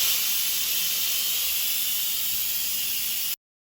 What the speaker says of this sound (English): Now the Instant Pot is done cooking, so let's quick release the steam.